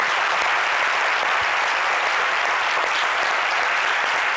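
Dense, continuous applause from a large audience, steady and loud with no pauses.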